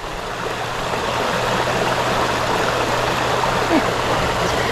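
A river flows with a steady, broadband rushing wash that stays even and continuous throughout, with a low constant hum underneath.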